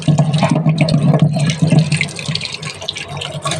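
Running tap water splashes close by as a peeled potato is washed under it, a steady, fairly loud gush with uneven splatter and no talk.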